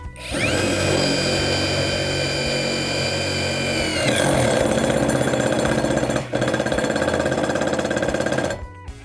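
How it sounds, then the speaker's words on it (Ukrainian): A Dnipro M DTD-201BC impact driver drives a self-tapping screw into a steel I-beam about 5 mm thick. It gives a loud, close motor whine, then switches to a rapid hammering rattle that stops abruptly near the end. "Давайте ми спробуємо ось таким саморізом просверлити двутавр. Товщина у нього 5 мм плюс-мінус."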